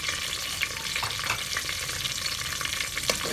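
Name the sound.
onion and green chilies frying in a pan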